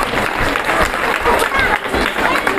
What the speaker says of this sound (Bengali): সকলের জন্য একবার জোরে হাততালি দিন